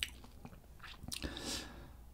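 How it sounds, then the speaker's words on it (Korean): Close-up, faint crunchy chewing of a boneless chicken burger with green onions and oriental sauce: a brief bite followed by soft, moist mastication. "씹는 소리가 장난 아닌데요?"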